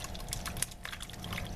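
Thick meat sauce poured into a small casserole dish, a soft continuous pouring and slopping with faint scraping, close and fairly quiet.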